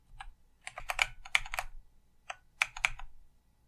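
A computer keyboard is typed on in short bursts of crisp, close key clicks, two quick clusters separated by a brief pause, with no voices.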